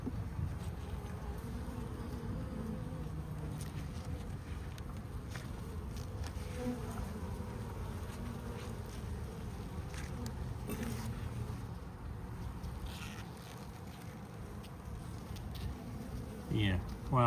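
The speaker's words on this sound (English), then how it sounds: "Well, we still have bees." Honey bees hum in a steady, dense drone throughout a smoke-free hive inspection of a colony with chilled brood, the buzzing close and continuous with a voice speaking faintly underneath.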